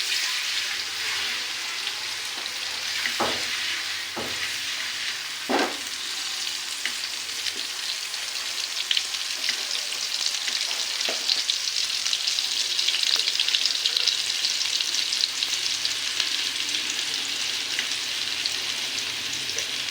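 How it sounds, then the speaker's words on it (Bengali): Onions fry in hot oil with a constant, bright sizzle, joined by a few dull scraping knocks of stirring early on, then a busier spattering crackle toward the end, with no talk. "আমি এভাবে নাড়াচাড়া করে পেঁয়াজটাকে ভালোভাবে ভেজে নিব"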